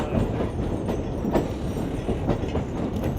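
The Sam Shortline excursion train rolls along rails in Georgia at a modest 25 to 30 miles per hour, a loud continuous rumble with rhythmic clickety-clack of the wheels.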